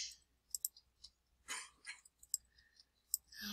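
Mouse clicks on a computer while using a spreadsheet font dialog, several short sharp clicks spread irregularly over a few seconds in a quiet room.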